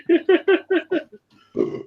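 A rapid series of five short, croaky burps in quick rhythm, then a pause and one longer, rougher burp, close and loud.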